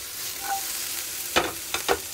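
Carrots sizzling in a hot frying pan, a steady soft hiss broken by a few sharp scraping clatters as they are tossed around, nearby and without talking.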